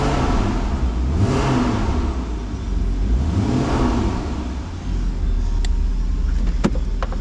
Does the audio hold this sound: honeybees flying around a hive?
no